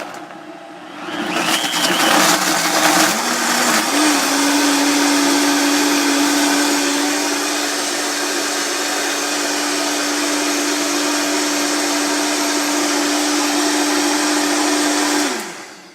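A blender whirs through whole fruit for margaritas, starting low and ramping up to a loud, steady high-speed drone that holds for over ten seconds before cutting off abruptly.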